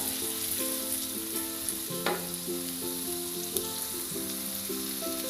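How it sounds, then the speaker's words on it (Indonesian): Shallots and garlic stir-frying in a pan: a steady, moderate hiss of frying with a single sharp scrape or clink, a soft tonal melody running underneath and no talking. "Aduk-aduk dulu ya sampai matang bawang merah bawang putihnya ya."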